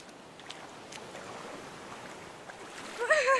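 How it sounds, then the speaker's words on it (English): Water splashing and sloshing at a beach in a children's cartoon, a soft continuous wash of water with a few light splashes, and a brief voice starting at the very end. "having lots of fun splashing about in the water"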